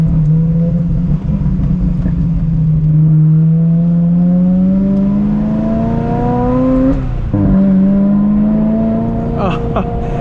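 A Ferrari 355 F1 engine revs loudly and close, its pitch climbing steadily, briefly dropping at a shift, then rising again.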